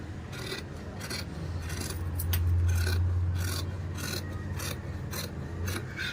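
Scissors cut through blouse fabric at a tailoring lesson, making a steady rasping, rubbing sound close by for several seconds over a low background hum, with no talking.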